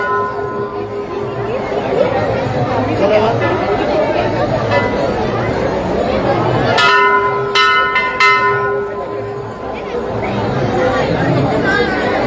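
Big temple bell at a Shiva shrine thronged with devotees on Shivratri, struck twice in quick succession midway through, loud and resonant over constant crowd chatter and a voice talking.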